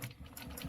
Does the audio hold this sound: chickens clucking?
no